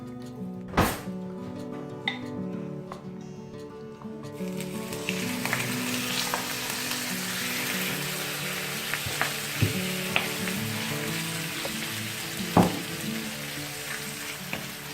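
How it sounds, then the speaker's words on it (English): Marinated chicken for a chicken korma goes into a frying pan and a loud, steady sizzle swells up and holds, close by, broken now and then by clunks of a utensil against the pan. "So we're going to fry it in the frying pan"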